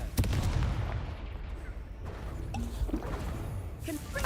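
The Confringo blasting spell going off in the video game Hogwarts Legacy in heavy blasts and crashing bangs, several impacts in quick succession with a voice talking over them.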